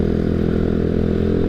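A carbureted motorcycle engine heard while riding, a loud steady low rumble with a rapid pulsing exhaust beat and some rattle, close and continuous with no voices.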